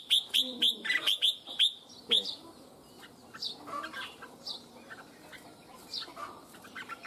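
A red-whiskered bulbul sings a series of sharp, clear chirps and whistled phrases, loud at first, then softer calls continue amid faint background sounds.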